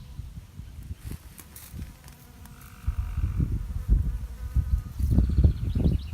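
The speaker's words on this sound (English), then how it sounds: "you'll see a few little bees on them buzzing around gathering mostly pollen" Small bees buzz around open garden flowers while gathering pollen, their faint, intermittent hum drifting closer and farther in soft bursts against a quiet outdoor background.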